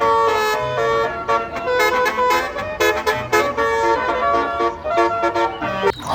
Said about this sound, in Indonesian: Wah, ternyata ada bus telolet.